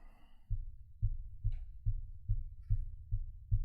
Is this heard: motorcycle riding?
no